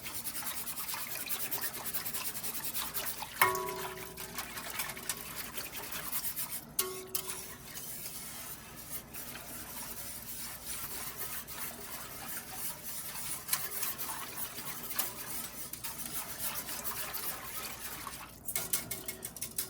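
Whisk scraping and rubbing inside a pot of beef stew, a steady close scratching and swishing with a few sharper clanks of metal against the pot.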